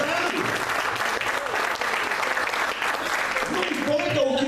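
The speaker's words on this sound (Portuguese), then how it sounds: "só quem entendeu, aplauda o nome do Senhor Jesus" Church congregation applauding during a sermon, a steady crowd clapping throughout, with a voice speaking faintly near the end.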